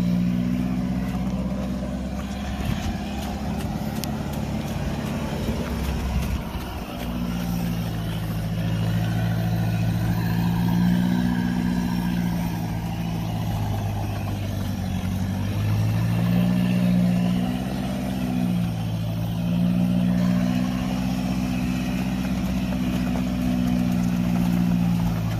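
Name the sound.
Roxor vehicle engine dragging a big International tractor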